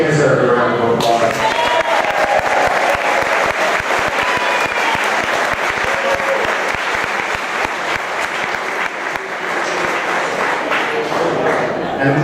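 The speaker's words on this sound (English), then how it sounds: "they deserve a round of applause" Loud, sustained audience applause at a Citroën owners' rendezvous, a dense crowd clapping steadily for over twelve seconds with faint cheering mixed in.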